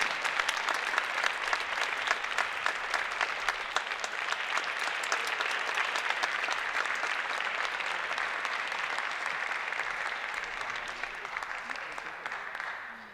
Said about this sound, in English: Ladies and gentlemen, let's give a big hand of applause to the Gutti family.